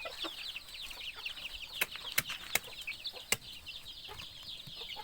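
Chickens and ducks in a farm coop at feeding time give a continuous chatter of clucks and calls, with several sharper, louder squawks standing out above the steady flock noise.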